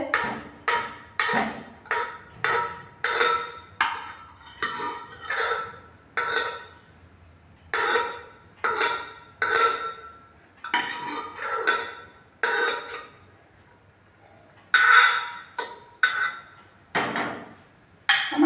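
Potato and soybean nugget curry is scooped out of a pressure cooker into a serving dish: a quick, steady series of sharp metal scrapes and clinks from the spoon against the pot, with brief pauses, close and fairly loud.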